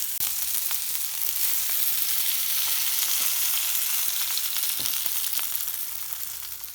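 Gluten-free sausage rolls fry in oil with rosemary, a strong, even sizzle with a few soft pan taps, easing off slightly near the end, with no speech.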